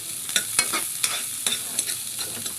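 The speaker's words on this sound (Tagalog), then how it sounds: "Tapos atin lang haluin konti" Chicken tinola with ginger being stirred in a pot, giving a steady scraping swish with light clinks of a utensil against the pot at a regular rhythm, close and clear, with no talking.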